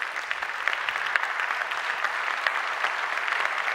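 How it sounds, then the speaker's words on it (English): Conference audience at an open source keynote giving a round of applause, dense, steady clapping from many hands, fairly loud and unbroken for several seconds. "So can we get a big round of applause for the events team?"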